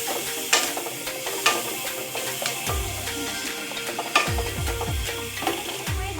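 Okra masala with green chillies and turmeric sizzles in a pan while a spoon scrapes and stirs in repeated strokes, with sharp clacks against the pan over a constant frying hiss.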